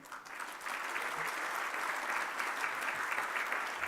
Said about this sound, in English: a big round of applause for APAPA tonight